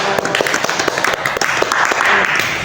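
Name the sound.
applause for Mbak Ica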